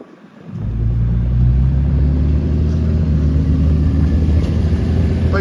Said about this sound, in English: after we heard a bunch of cars